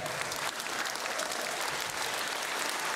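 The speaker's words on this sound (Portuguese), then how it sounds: "e merece um aplauso de pé, Nhozal." A crowd gives a standing ovation, dense continuous applause filling the space evenly from start to end, loud and unbroken with only faint voices beneath.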